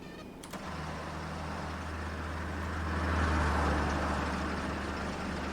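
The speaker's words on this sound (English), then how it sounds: "Sounds like the engine's running." Bus engine in the driving game OMSI 2 starting with a brief crank and settling into a steady, low, droning idle that swells slightly, heard alone and fairly close.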